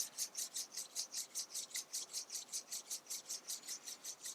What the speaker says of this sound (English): Beginning to rub your palms together,